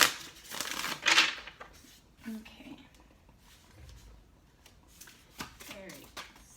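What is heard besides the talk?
tarot cards being shuffled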